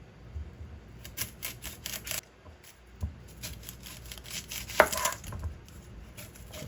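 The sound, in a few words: chopping onion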